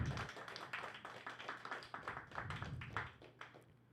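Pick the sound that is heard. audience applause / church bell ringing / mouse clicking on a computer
audience applause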